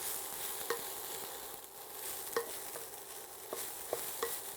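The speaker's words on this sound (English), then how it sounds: "Saute it." Colorful beans, including yellow beans, being sautéed in a stir fry, a gentle sizzle under repeated spatula scrapes and taps against the pan at an uneven rhythm, close but fairly quiet.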